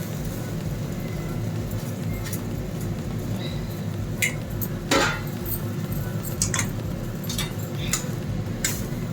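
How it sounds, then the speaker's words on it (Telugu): Over a steady bubbling hiss, a utensil scrapes and taps against a metal pot while vermicelli is stirred into boiling water, with scattered light clinks close by. "ఇప్పుడు మనము సేమియా వేసేసుకొని కలుపుకుందాం"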